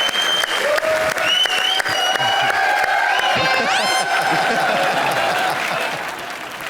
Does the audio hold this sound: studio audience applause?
yes